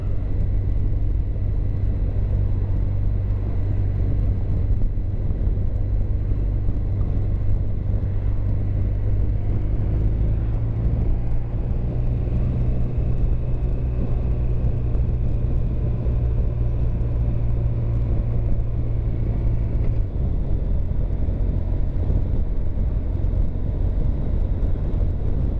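A car drives uphill toward a lookout tower in Iserlohn, Germany, with a steady low engine rumble and road noise filling the cabin continuously, no talking.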